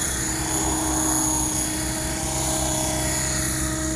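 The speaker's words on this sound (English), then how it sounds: "Try to keep the Heli in one spot." Radio-controlled model helicopter hovering nearby, a steady high-pitched whine of the motor and rotor with constant tonal hum, loud and unbroken with no talking.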